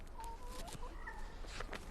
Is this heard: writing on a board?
no